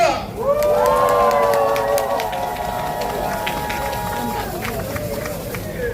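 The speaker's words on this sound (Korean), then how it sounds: "이 터미널이 들썩들썩 끓일 수 있을 만큼 큰 함성과 박수 부탁드리겠습니다" A crowd at an outdoor election campaign rally at a bus terminal cheers loudly, a dense sustained roar of shouting voices with drawn-out tonal cries that gradually settles to a steady, slightly softer clamor.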